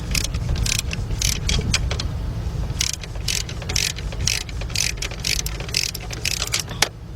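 A ratchet wrench loosens a bolt while replacing spark plugs on a Hyundai XG350 V6, giving bursts of rapid clicking in several repeated runs over a steady low background hum.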